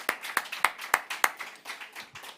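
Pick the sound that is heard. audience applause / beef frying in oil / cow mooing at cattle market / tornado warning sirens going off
audience applause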